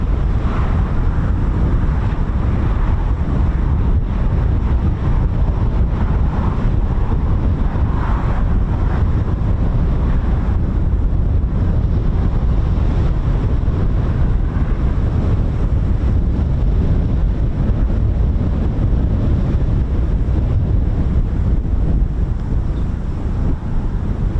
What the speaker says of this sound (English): It's pretty blustery.